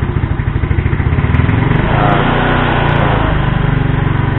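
A Yamaha Mio motorcycle engine runs loud and close, revving slightly with a steady rapid putter that rises a little in pitch midway, heard alone with no talking.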